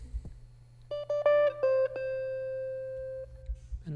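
A dry guitar sample melody in FL Studio, with no EQ, reverb or delay, plays a few quick clean picked notes that settle into one long sustained tone, over a faint low hum.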